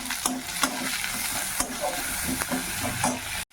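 Onion, garlic and ginger sizzle steadily in hot oil while being stirred, with repeated scraping strokes of a spoon against the pan, loud and close throughout and ending abruptly.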